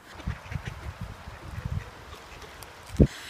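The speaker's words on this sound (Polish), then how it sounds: "Musieliśmy się zatrzymać, bo są kaczki i Marysia koniecznie chciała je obejrzeć." A few soft duck quacks sound faintly at a distance, followed by one sharper, louder quack near the end.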